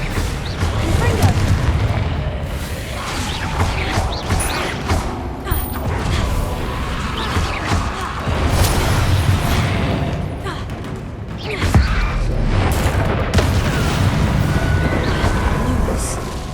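Confringo fire spells go off in Hogwarts Legacy combat, with repeated booming blasts and thuds spread over the stretch, all loud and close alongside other battle noise and shouted spell names.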